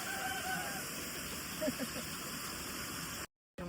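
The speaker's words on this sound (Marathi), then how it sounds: "वॉटरफॉल बघा काय. इथे वॉटरफॉल बघा काही." A waterfall along the Harishchandragad trek in the Sahyadri hills gives a steady, full rushing hiss that holds evenly for about three seconds, then cuts off abruptly.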